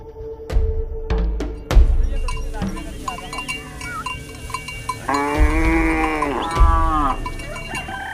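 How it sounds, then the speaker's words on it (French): A herd of cattle lows repeatedly at a thorn-fenced boma in rural Africa, long drawn moos overlapping near and far, mixed with sharp clinks and a voice speaking over them. "Isaka possède 30 vaches."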